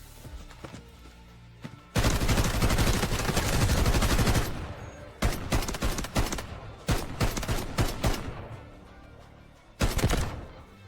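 Rapid bursts of M14 rifle fire in a shooting video game, a long sustained volley followed by several shorter clusters of shots, loud and close with no talking.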